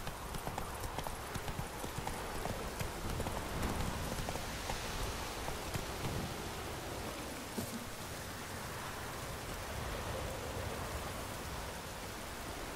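Geralt's horse Roach trots in The Witcher 3, hooves clip-clopping in a fast, steady rhythm over a loud, noisy outdoor ambience, with no talk.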